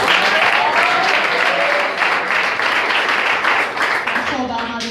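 A church congregation applauds with a broad, sustained wash of clapping. Voices call out and cheer within it, and the clapping thins slightly near the end.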